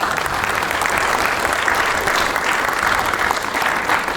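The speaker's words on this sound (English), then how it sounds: "can we give this group a round of applause?" Dense, sustained applause from a large audience at a hackathon opening ceremony, steady and loud throughout with no talk over it.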